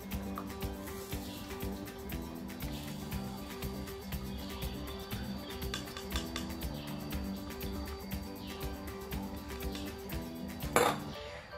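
Copper sulfate powder is stirred into water in laboratory glassware, producing quiet, continuous clinking and tapping of a stirrer against glass, faint and close.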